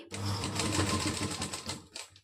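A sewing machine with a normal presser foot runs a top stitch alongside invisible thread piping, giving a rapid, steady, close-up chatter of stitches for about two seconds before stopping.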